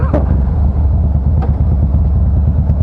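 A Harley-Davidson Fat Boy with a 103 engine and a Supertrapp variable exhaust rumbles underway, a deep, loud, continuous throb heard up close from the rider's position.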